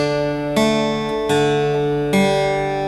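Guitar lesson for a song: three plucked string patterns, each beginning with a sharp bass pluck that rings on with sustained notes, close and clean, no voice.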